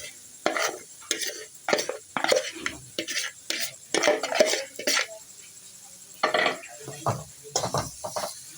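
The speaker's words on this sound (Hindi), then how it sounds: "अब हम इसमें जो हमने आलू मैश किए थे वो शामिल करेंगे" Mashed boiled potatoes stirred and fried with roasted gram flour and spices for egg and potato cutlets, giving repeated close scraping and clattering strokes of a spoon in a pan with soft sizzling underneath, in uneven bursts.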